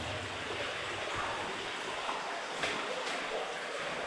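Water rushes and drains steadily inside a flooded abandoned tungsten mine, a continuous broadband roar with faint echoing, and no clear talk.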